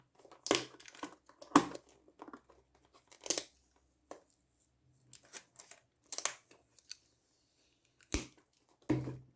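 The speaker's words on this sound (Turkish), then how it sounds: "Şimdi hemen arkasındaki yapışkanını sökelim." Adhesive film being peeled off the back of a Logitech MX518 mouse, several short close tearing and crinkling bursts separated by quiet gaps.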